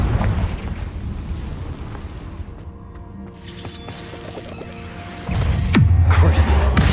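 In the Hogwarts Legacy video game, a Confringo fire spell explodes with a sustained rumbling blast and crackling burst, then a louder second boom near the end, over game noise and a speaking voice.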